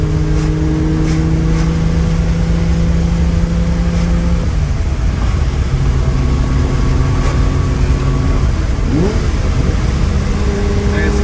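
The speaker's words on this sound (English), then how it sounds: "That glorious V12 sound." A 1968 Ferrari 365 GT 2+2 V12 engine roars loudly and continuously, its pitch climbing and dropping through gear changes, heard from the passenger seat, with a voice partly audible under the noise.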